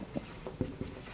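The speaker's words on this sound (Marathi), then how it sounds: "इथं लिहितो पहा मी" Writing on a board, a few short soft scratchy strokes, close and quiet.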